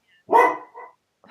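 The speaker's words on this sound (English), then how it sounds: "I'm so sorry about my dog." A dog gives one loud close bark followed by a shorter softer yelp and a faint trailing whimper, against an otherwise quiet room.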